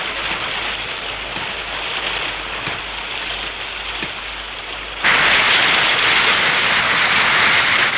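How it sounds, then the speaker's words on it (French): Heavy cartoon rainstorm pours down in a steady dense hiss, with faint thunder-like thumps, then surges louder and harsher partway through as the downpour intensifies. "Une grosse tempête se prépare."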